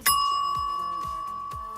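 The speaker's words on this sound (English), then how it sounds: "Definitely a bell." A single bright bell strike rings out loud and clear, then a sustained metallic tone slowly fades, like a bell sound effect.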